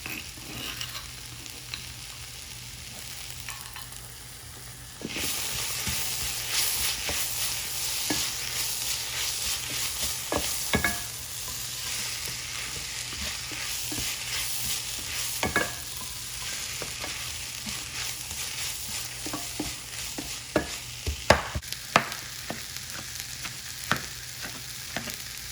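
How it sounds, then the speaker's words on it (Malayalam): Crushed ginger and garlic frying in a pan for a Palakkad-style egg gravy, with a steady hiss of sizzling oil that grows louder a few seconds in, broken by sharp stirring scrapes, close by. "ഇഞ്ചിയും വെളുത്തുള്ളിയും നന്നായിട്ട് ചതച്ചെടുത്ത് ചേർക്കാം"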